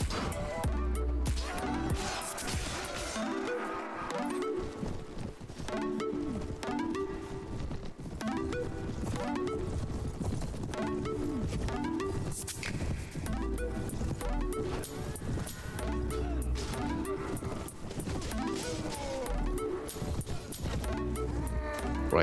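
Horse hooves clip-clop and an occasional whinny from the video game Prophesy of Pendor, running steadily under dense, loud game music and battle noise throughout.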